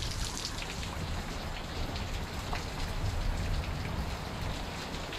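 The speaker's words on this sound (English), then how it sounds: "In all this rain that we having, you know." Heavy rain falls during flooding, a dense, continuous hiss and patter of drops on surfaces that stays steady and fairly close throughout, with no voices.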